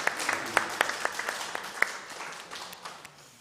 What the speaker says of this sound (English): let's applaud for all of them